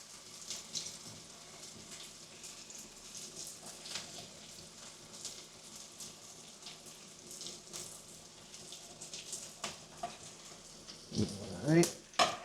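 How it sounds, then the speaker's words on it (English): Onions fry and caramelize in bacon grease, making a soft, steady sizzle with occasional stirring scrapes, and a louder clatter near the end. "So now I'm going to start chucking in the onions. And let it caramelize them in the bacon grease."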